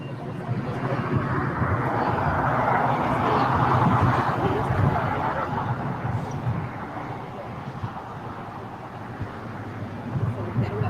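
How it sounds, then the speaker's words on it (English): An American Airlines Boeing 777 heavy jet takes off from runway 25 right at LAX, heard from a hillside as a steady, broad engine roar that swells and then slowly eases, with light wind noise. "So we'll finally get a heavy takeoff here."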